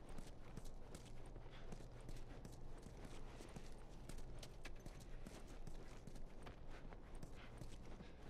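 Horse hooves clip-clop steadily in The Last of Us Remastered, a dense run of close, even beats that carries on without a break over a low, constant background hum.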